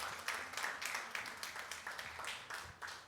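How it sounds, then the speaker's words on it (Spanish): A church congregation claps in a steady, rhythmic beat, like a faint, distant patter of hands repeating evenly throughout. "Dele ese fuerte aplauso al Rey de Reyes y Señor de Señores."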